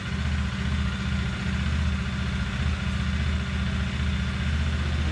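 A CFMOTO 150 NK motorcycle engine, one with a piston fault, idles steadily up close with a low, even throb and no voices.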